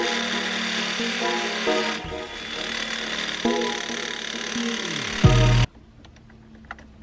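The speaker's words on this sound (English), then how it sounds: "I decided to drill this in the car." A step drill bit grinds through metal inside an RX-7 for an arcade start button, a harsh rasping drone with shifting pitch as the bit steps up, ending in a lower bogging surge before stopping abruptly into near quiet.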